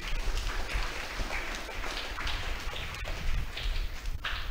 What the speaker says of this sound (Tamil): அவர்களை வாழ்த்துக்கிற விதமாக கைத்தட்டி அவர்களை நாம் வரவேற்போம்